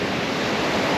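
Steady broadband roar of surf breaking on a beach in Goa, continuous and fairly loud with wind mixed in, no voices.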